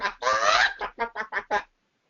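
A human voice imitates chickens clucking, one long drawn-out squawking call followed by four short clipped clucks in quick succession, close and loud.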